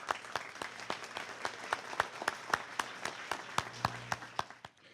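Applause from a crowd at an award presentation, steady clapping with sharp individual claps standing out, fading slightly toward the end.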